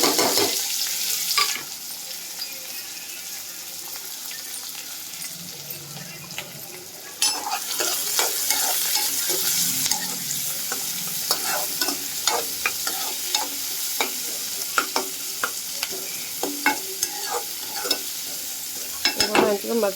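Onions and green chillies fry in hot oil. A steady sizzle runs under repeated clicks and scrapes of stirring, and a sharp burst of added frying lifts the level about a third of the way in.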